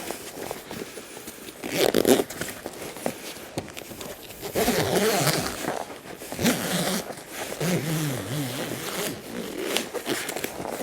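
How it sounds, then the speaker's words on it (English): A zipper drawn around an air mattress cover in several bursts, with scraping and rustling of fabric between pulls, close and fairly loud. "Once you get the zipper started, work its way around."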